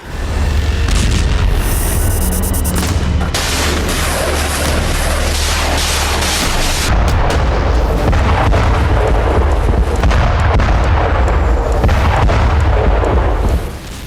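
Missile and rocket strikes on Stepanakert in wartime, a continuous loud roar of blasts and rumbling booms that fills the whole stretch with heavy, saturated noise.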